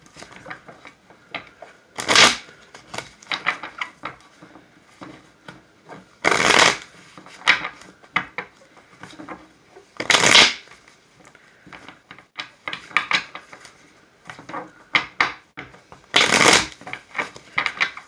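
A deck of oracle advice cards is riffled and shuffled by hand, with several loud crisp bursts spaced a few seconds apart and softer card handling and taps in between, close by in a quiet room.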